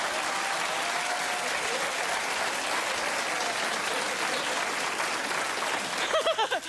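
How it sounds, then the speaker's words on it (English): Studio audience at a daytime talk show bursts into dense, steady applause and cheering that holds for several seconds before tapering off at the end. "There was a man who led the clap."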